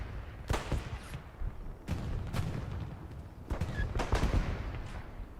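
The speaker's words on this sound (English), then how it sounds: "Yes, that is ROFS artillery barrage coming in." Artillery barrage in Hell Let Loose, heavy booming impacts landing in clusters a second or two apart, with crackling debris and rumble between blasts.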